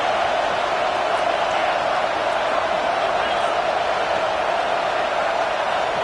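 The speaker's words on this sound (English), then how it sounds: "Man, this crowd really affecting the football game." Home crowd at a football game roars loudly and steadily, a dense wall of cheering and noise that holds without a break from start to finish.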